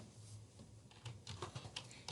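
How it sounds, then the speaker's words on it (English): Keys on a computer keyboard tapping in a quick, uneven run, the clicks growing louder and denser after a softer start, close up with no talking. "So let's type in our answer."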